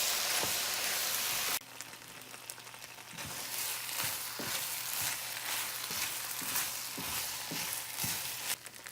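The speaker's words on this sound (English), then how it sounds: "We're going to give that a good mix and let that cook for another 5 minutes in the skillet." American goulash with Worcestershire sauce sizzles and fries in a skillet, a steady close crackle with brief clinks and stirring scrapes spaced through it.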